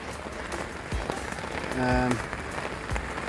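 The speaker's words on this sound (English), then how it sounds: "It's actually so heavy, the rain, it looks foggy." Heavy rain drums steadily on a leaking umbrella outdoors at twilight, a dense continuous patter with a brief tonal sound partway through.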